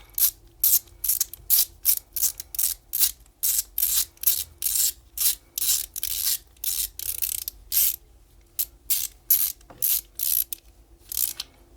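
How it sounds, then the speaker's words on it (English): A ratchet socket tightens the bolt on a pair of Felco pruning shears, giving a long series of crisp, rapid clicking bursts, each stroke separated by short pauses, close and loud with no talking. "And socket back on, just to lock it into place."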